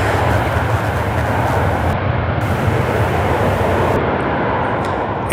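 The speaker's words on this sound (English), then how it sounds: "747 out of Toronto, Canada." An Air Canada Boeing 747 jet airliner out of Toronto roars steadily and loudly near an airport in Charlotte, a continuous broadband engine rumble with no pauses and no voices.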